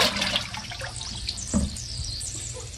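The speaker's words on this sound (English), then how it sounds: "If you put it in the water, you can hear and see that it has a leak around the valve." Steady bubbling and gurgling of water as air leaks from around the valve of a tubeless tire held underwater, with a small burst of bubbles partway through; continuous and close, no talking.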